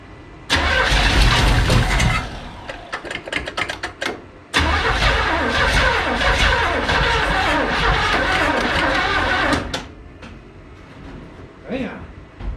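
A long-dormant 1970 Chevrolet C10 engine, just revived, cranks and fires into a loud, close, rough running roar, stumbles briefly, runs on steadily, then cuts out with a few quiet words afterward.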